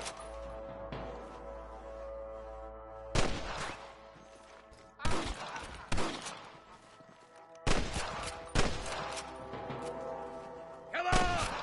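Gunfire in Red Dead Redemption: several loud, sharp shots at irregular intervals, each with a ringing tail, over a low background of game sound.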